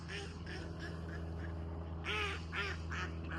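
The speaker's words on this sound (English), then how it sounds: "The ducks are laughing at me" Ducks quack in a quick series of raspy calls, some overlapping, over a steady low hum, fairly faint and a little distant.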